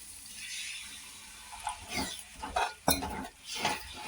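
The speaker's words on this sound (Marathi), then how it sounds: "आता याच्यात मी थोडंसं पाणी टाकणार आहे" A splash of water goes into a pan of sautéed spices for a potato, pea and cauliflower bhaji, bringing quiet bursts of sizzling along with faint scraping and clinks of a utensil against the pan.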